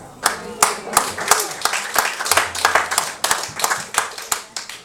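Audience clapping after a song at a live performance, with distinct hand claps in a steady, uneven rhythm over about five seconds, moderately close, with faint voices in the background.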